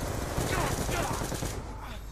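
Dense, continuous gunfire from a Call of Duty Black Ops 2 match, loud and rapid with heavy low-end thumps, filling the whole stretch and easing slightly toward the end.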